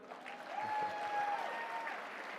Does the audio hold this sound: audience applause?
yes